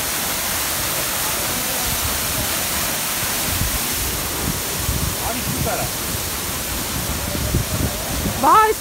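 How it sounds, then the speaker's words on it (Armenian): Water rushes and splashes steadily in a continuous hiss, like a stream flowing over rocks, with faint voices now and then. "Դա ջուր է"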